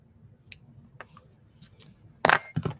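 Scissors trimming paper for watercolor pear greeting cards, a few soft snips at first and then two loud, close, crisp cuts near the end, with no talking.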